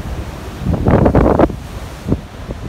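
Stormy sea surf pounding the beach at Alupka under strong wind, with a loud surging wash of breaking waves peaking midway and a smaller surge near the end, all over steady wind rumble on the microphone.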